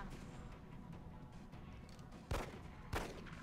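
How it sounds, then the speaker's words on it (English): A laser rifle fires in XCOM: Enemy Within, two sharp, punchy shots about half a second apart, rising loudly above a low, steady background rumble. "You can test out your new laser rifle"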